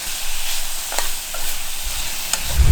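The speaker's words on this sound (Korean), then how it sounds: "양배추 숨이 살짝 죽을 정도만 볶아주도록 하겠습니다" Cabbage is stir-fried in a pan for ramen with tantan soup, giving a steady close sizzle with scraping stirs and a few clinks against the pan.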